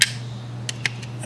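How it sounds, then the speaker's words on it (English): Plastic jump seats on a 1928 Lincoln model car kit from MPC fold out, making several small, sharp, close clicks over a low steady hum. "Then in this part here, you got these jump seats that fold out"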